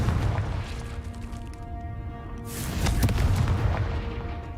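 A Confringo fire spell explodes in Hogwarts Legacy: a deep, loud boom over a steady rumbling game soundscape, with a second heavy burst swelling near the end.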